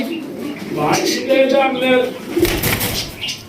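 Pigeons coo softly in the background while someone talks over them close by.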